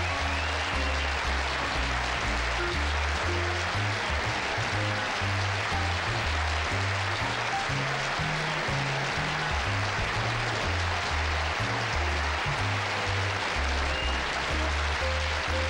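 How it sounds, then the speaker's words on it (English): A studio audience applauds steadily at a late-night television talk show, with a continuous dense wash of clapping throughout and a band's low musical notes running underneath. "I'm humbled by that applause."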